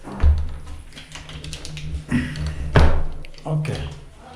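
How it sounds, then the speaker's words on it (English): Several sharp taps and thuds sound as a bathroom door in a Turkish bath in Afghanistan is locked, close by and irregular, with a low hum running underneath. "I have to lock the door."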